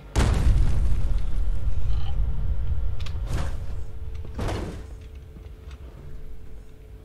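In Fallout 4, a heavy door opens with a loud rumbling slide and boom at the start, followed by a couple of sharper clanks and a fading mechanical rumble, with no speech.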